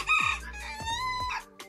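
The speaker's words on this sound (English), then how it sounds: "there is my little Nodafleur rooster" A small Nodafleur rooster on a farm gives a short crow followed by a few clucks, close and clear against a quiet background.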